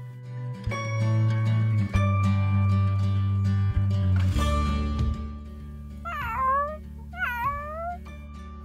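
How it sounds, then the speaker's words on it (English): Two cats meow repeatedly, with drawn-out, wavering cries and rising-falling yowls over a low hum, loud and close. "Just then, he met two cats."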